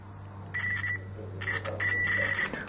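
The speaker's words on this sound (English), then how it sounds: "we should hear a beep if the circuit is working properly" High-pitched electronic beeps from a continuity tester checking a car relay, sounding in two sustained bursts with a short gap, close and clear over a low hum.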